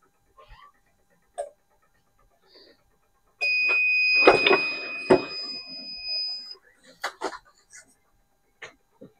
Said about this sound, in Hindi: ये देखिए टाइमर हमारा आ गया है